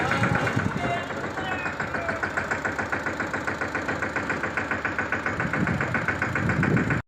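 A farm tractor engine chugs steadily nearby, with a rhythmic knocking diesel beat and a louder surge near the end before it stops suddenly.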